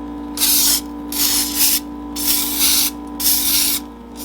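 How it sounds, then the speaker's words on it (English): Four hissing bursts of non-stick cooking spray into a baking pan, each about half a second long, close by with a faint steady hum underneath. "I have some non-sticking cooking spray, or you can use butter and spray the bottom of the pan"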